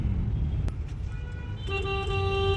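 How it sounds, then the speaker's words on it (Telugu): A car horn sounds a sustained honk in the last second, over a low rumble of road traffic. "హార్న్ కొడుతున్నా అనిపిస్తుంది"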